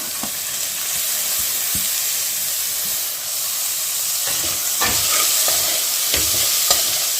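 Soaked chana dal roasts in a hot pan under a loud, continuous hissing sizzle, with scattered utensil scrapes and taps growing more frequent toward the end.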